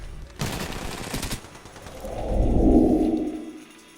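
Gunfire in Apex Legends, a fast burst of close shots followed by a heavier, rumbling impact swell that fades out; no voices.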